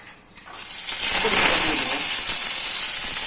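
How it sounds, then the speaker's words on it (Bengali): Broken lentil dumplings (bori) frying in a pan of oil, a loud hissing sizzle that starts abruptly after a brief quiet moment and holds steady to the end. "একটু ভালো করে ভাজবো বড়িটাকে"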